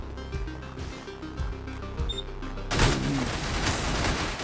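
Automated turrets open fire in a room in the video game Receiver, a dense, steady burst of shots that suddenly swells into loud continuous gunfire after a stretch of quieter clicks and tones.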